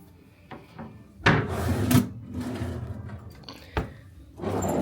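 A deep drawer in a deluxe studio villa at Bay Lake Tower resort slides open and shut, giving a few close wooden thumps and sliding rumbles at moderate loudness with brief pauses between them.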